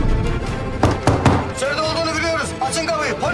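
Police pounding on a door, a few loud heavy knocks in a quick cluster, with people shouting and talking over them.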